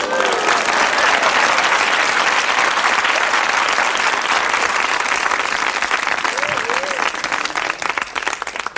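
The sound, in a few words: studio audience applause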